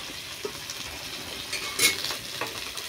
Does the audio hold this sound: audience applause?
no